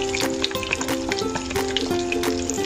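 Leftover filling of egg, meat, carrot and onion frying in a pan, a close, lively sizzle with popping spits and crackles scattered throughout, with no talking.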